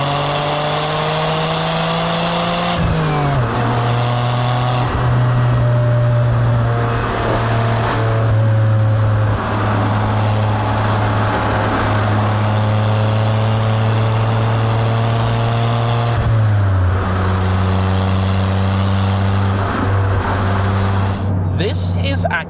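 A 1992 Autozam AZ-1 kei car revving hard while driving, the small engine climbing toward 8,000 rpm through several gear changes; loud, close rising whines with brief drops between shifts, mostly alone.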